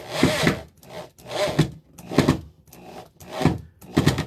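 Wood being stripped out for a closet build gives repeated rhythmic scraping and tapping strokes, about six bursts at a steady pace, close and fairly loud, with no talk.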